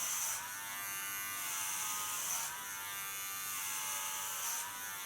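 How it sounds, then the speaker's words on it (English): An electric hair clipper set to a number 2 guard cuts hair ultra short, giving a steady close buzz with a few soft swells as it passes over the head, and no talking. "It's 2 on my clipper. Started on the front."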